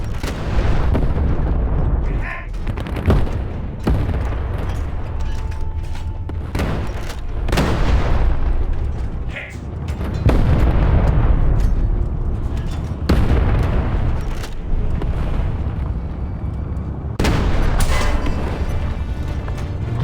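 Artillery strike explosions in War Thunder Mobile, heavy booming blasts landing repeatedly over twenty seconds, loud and close, layered over a constant rumble of battle noise.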